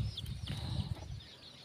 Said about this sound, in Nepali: हाम्रो कुखुराहरू यतै छ है।